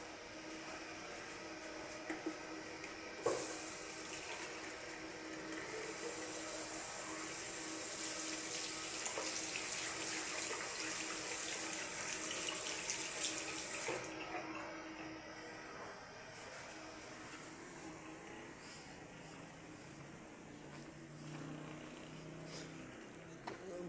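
Water runs steadily from a tap in a washroom, a broad hiss that swells loudly for several seconds and then drops back to a softer background, with no talking.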